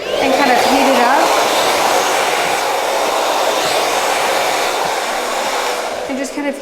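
A hair dryer blows continuously and loudly at close range while hair at the front is styled for volume, a steady rushing whoosh with a faint whine that dips slightly near the end.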